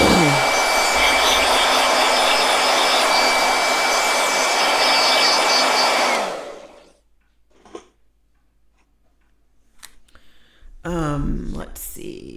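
A handheld blow dryer roars loudly and steadily for about six seconds, then shuts off, leaving quiet room sounds and brief voices afterward.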